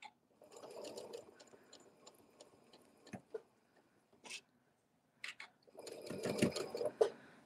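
A sewing machine stitching fabric along a drawn line, running in short quiet bursts with pauses and soft clicks between them, then a longer, busier run near the end.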